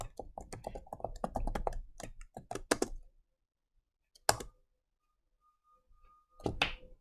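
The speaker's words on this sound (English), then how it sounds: "I was typing pretty quickly" Rapid clicking of computer keys, a dense burst of close keystrokes lasting about three seconds, then silence broken by a single thunk and a brief final clatter.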